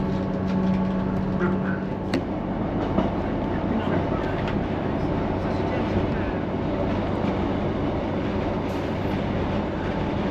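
A passenger train rolls over Ribblehead Viaduct, heard from inside the carriage as a steady rumble with rhythmic wheel clatter and rattling, while faint voices murmur in the background.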